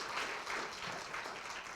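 An audience at a school district's State of the Schools address applauds, giving a steady wash of clapping across the whole short clip with no distinct voices.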